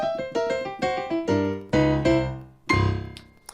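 Boogie woogie piano lick played as a quick run of bright, clear notes that climbs to a final sustained chord in parallel sixths, with one light note at the very end, solo and close.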